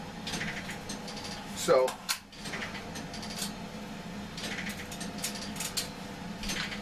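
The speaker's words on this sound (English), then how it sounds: "let me put it back on the gun here." A Sightmark tactical magnifier is mounted back onto a gun, making close mechanical clicks and a ratcheting rattle, with a brief louder clunk early on and someone speaking briefly.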